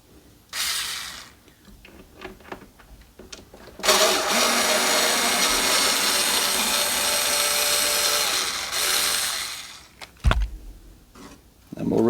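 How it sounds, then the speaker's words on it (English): Screws are taken out of the back panel of a 5E3 tweed tube amplifier combo, with several seconds of a steady whirring power screwdriver between shorter mechanical clicks and ratcheting, heard up close. "We're going to take 4 screws out and remove this back panel here"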